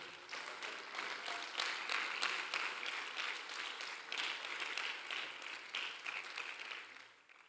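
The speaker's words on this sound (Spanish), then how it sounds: "Denle un aplauso fuerte a Dios." A church congregation applauds together in a steady, moderately loud wash of clapping that runs the whole time and tapers off at the end.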